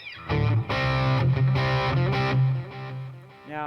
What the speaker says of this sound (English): Let's check out the distortion.